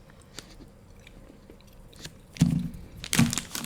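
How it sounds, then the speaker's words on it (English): Sticky, sour raspberry-like sugary candy being chewed up close, with quiet mouth sounds building to a couple of louder crunchy bites near the end. "hopefully I don't have to chew this too much"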